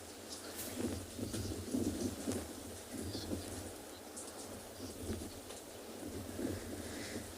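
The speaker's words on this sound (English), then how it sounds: "What a wonderful time down here in the rain." Rain falls steadily at a beach enclosure for penguins, a soft continuous patter with low rumbling thunder rolling underneath and faint bird calls in the background.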